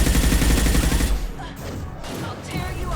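Weapon fire from an impact shot in the video game Mass Effect 2, a dense, loud burst of gunfire for the first second, then continued rumbling combat noise at lower level.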